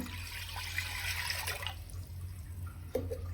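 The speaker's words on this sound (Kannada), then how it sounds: "ಮೊದಲಿಗೆ ಒಂದು ಚೊಂಬು ನೀರು ಹಾಕ್ತೀನಿ." A jug of water is poured into a cooking pot of salted grated coconut while kadalekalu usli is being made, a short splashing gush followed by faint trickles and drips.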